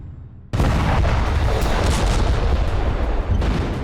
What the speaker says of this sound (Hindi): आईएनएस अरिघात से पहली बार K4 SLBM का सफल परीक्षण किया गया।